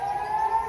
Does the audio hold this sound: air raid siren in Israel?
yes